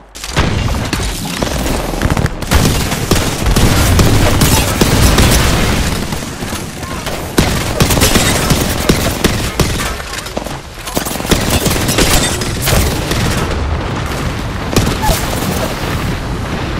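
Heavy gunfire in the video game Apex Legends, with dense bursts and booming shots layered into a loud, near-continuous barrage and a few brief lulls. Voices speak over it at times.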